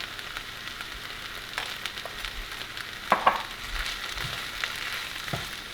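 Sliced mushrooms with paprika and cumin sizzling softly in a pan while being stirred, a steady low frying hiss broken by occasional scraping and tapping of the utensil, with no talk.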